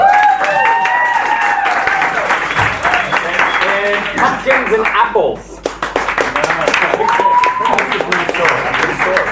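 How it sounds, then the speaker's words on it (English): A theater audience claps loudly and steadily for a blue sword prop during improvised movie-genre scratch theater, with dense clapping, cheering voices and speech layered over it throughout. "Okay, round of applause."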